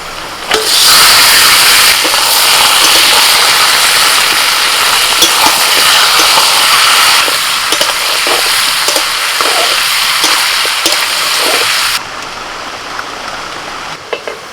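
Country chicken meat hits a hot pan and sizzles loudly and steadily for about eleven seconds, a dense hiss that then drops to a softer level.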